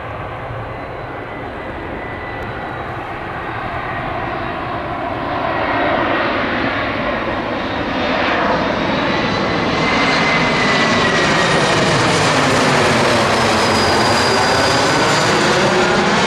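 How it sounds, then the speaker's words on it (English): An American Eagle Embraer airliner's jet engines roar loudly up close at Tampa airport, the sound building steadily in pitch and intensity throughout as the aircraft powers up and passes. "It's American Eagle for AA."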